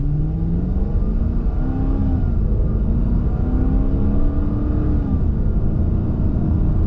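A 2023 Chrysler 300 S pulls away from a stop, its engine note rising steadily in pitch with a smooth, continuous drone that stays loud and close for the whole stretch, with no talking over it.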